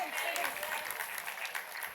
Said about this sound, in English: Dear Pranjal, let's give him a huge round of applause